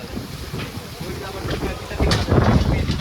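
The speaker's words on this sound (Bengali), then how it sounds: "প্রবল বাতাস শুরু হয়ে গেছে বন্ধুরা" Strong gusting wind as a storm builds before rain, a steady rushing roar that swells louder in the final second, buffeting the microphone close up, with no speech.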